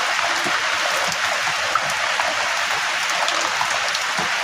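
Heavy rain pouring down outdoors at night in the Thai countryside, a dense continuous hiss at close range with no let-up, alone without voices.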